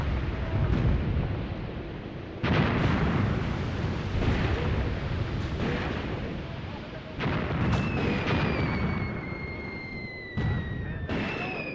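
Artillery guns lobbing shells in Graviteam Tactics: Mius Front, with heavy booming blasts at irregular intervals, loud and close, rumbling between shots, plus a few whistling shells overhead.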